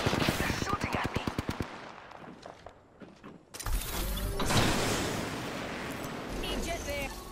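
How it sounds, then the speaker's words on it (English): Rapid machine-gun style bursts in a squad-based video game firefight, loud and close at first, then a lull, then dense continuous firing and action noise, with voices talking over it. "They're shooting at me."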